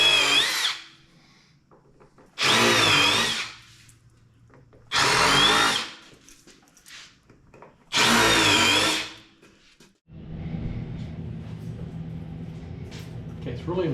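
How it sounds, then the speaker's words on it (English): A power drill drives bolts into a wooden board for a woodworking cross project, firing in four loud whirring bursts of about a second each with pauses between them, followed by steady lower background noise. "getting ready to bolt this down."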